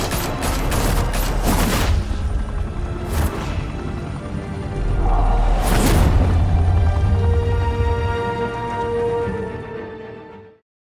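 A sustained burst of gunfire fills a Gotham mafia high-rise club shootout in Batman: The Telltale Series, loud dense crackling with a few heavier hits, running several seconds before cutting off to silence.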